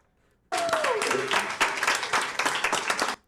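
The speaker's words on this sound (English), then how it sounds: "Look, they clapping." Audience applauding at a Shreveport city council meeting, a sustained burst of clapping that starts abruptly and fills the room, with voices mixed in beneath it.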